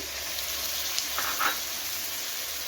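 Onion and tomato frying in a pan, a soft, steady sizzle and hiss with a couple of faint stirring clinks, no voices.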